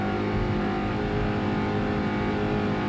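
A 2002 Dirty Cash Racing 30 ft superboat engine throttles hard while racing, a loud, steady, roaring drone that holds for about three seconds with no voices.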